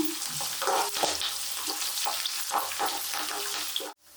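Peanuts and curry leaves fry in hot oil, a close, busy sizzle with scraping stirs and small pops, cutting off abruptly at the end.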